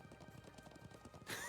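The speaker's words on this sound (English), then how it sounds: "Glad I still remember how to ride a horse." A horse trots in the video game Trails of Cold Steel II, with quick rhythmic hoofbeats over a low ambient bed, then a bright, louder swell of game sound rising suddenly near the end; brief and without speech.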